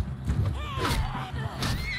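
A horse in the video game Mount & Blade II: Bannerlord whinnies with a rising, wavering call over steady game background noise and low rumbling, lasting about two seconds.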